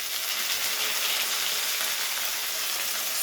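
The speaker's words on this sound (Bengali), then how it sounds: "আলুটাকে কিছুক্ষণ 2 থেকে 3 মিনিটের মতো ভেজে নিয়েছি পেঁয়াজের সাথে" Potato, onion and carrot fry in a pan with oil, giving a steady, close hiss and crackle that carries evenly throughout with no voices.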